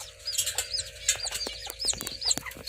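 Serama chicken chicks, three small newly hatched birds including a cream-coloured one, give rapid high-pitched peeps and chirps in a dense, overlapping stream, close and clear with no talking.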